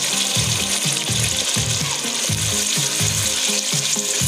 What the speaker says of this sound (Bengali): মশলাগুলো ভালো করে ভেজে নেব